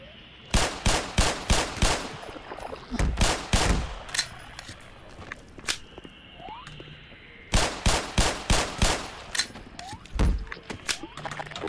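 Gunfire in Black Mesa: Xen, two clusters of sharp, rhythmic single shots fired in quick succession, with scattered mechanical clicks and thunks and quieter ambient game sounds in between.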